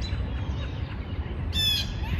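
Blue jays give harsh, squawking calls while mobbing a hawk outdoors, a brief burst of loud calls over steady low background noise.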